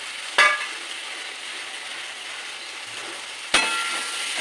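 Prawn hitting a hot pan for restaurant-style mixed chow mein sizzles steadily, with two sharp clatters marking the drop-in near the start and end, and no talking.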